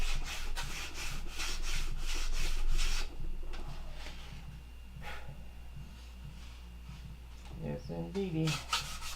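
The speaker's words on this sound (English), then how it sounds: "Just sanded it with a rock." A rock rubs and sands a Gen 4 horn clip, a steady gritty scraping that runs continuously, close and fairly loud, then fades near the end as a voice speaks briefly.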